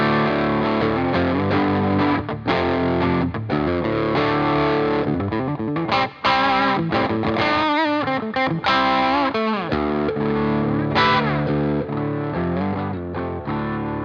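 An Epiphone Les Paul electric guitar plays loud and up close through heavy distortion, its chords and riffs running continuously with a few brief gaps and no voices.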